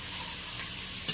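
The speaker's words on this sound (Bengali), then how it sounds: "ওই তেলেই আমি আলুটা ভেজে নেব।" Potatoes frying in oil in a pan for a Bengali curry, a short, even close sizzle ending in a small scrape of stirring.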